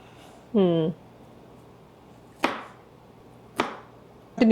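A knife chops vegetables on a board for a stir fry and salad, giving three sharp, separate chops about a second apart, each ringing briefly, after a short tonal squeak at the start.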